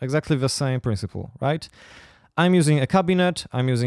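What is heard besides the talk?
No everyday noise stands out behind the speech.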